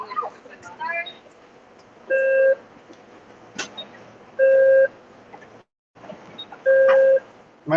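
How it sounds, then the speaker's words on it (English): A fire alarm heard from a car in a Walmart parking lot gives three loud, evenly spaced electronic beeps, each about half a second long, with talk between them. "So it sounds like a fire alarm."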